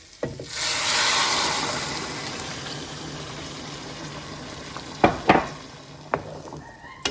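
A steady rush and hiss of 700 ml of boiling water pouring into a hot pan of onion-flavored oil, followed by faint sizzling and a few sharp clinks near the end.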